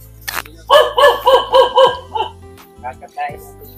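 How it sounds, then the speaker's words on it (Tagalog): A dog on a rural provincial path barks five times in a quick, loud, close run, then gives a few softer, scattered yips, with a person's voice also heard. "Ay, may aso."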